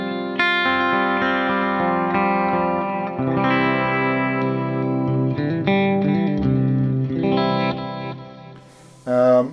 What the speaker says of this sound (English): In case you want to have some chorus, well, I had it on now.